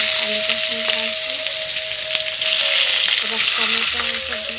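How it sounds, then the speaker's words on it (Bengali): Potatoes fry in hot oil in a home kitchen, a loud continuous sizzle heard up close, with a faint tonal background hum and no talking. "আলুটা ভাজছি"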